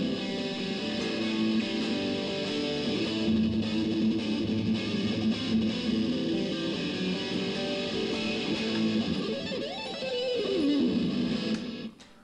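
An electric guitar plays through a 1993 Crate amp on a distortion setting with delay, sustained chords ringing loud and warm with trailing repeats, ending in a bending note before cutting off.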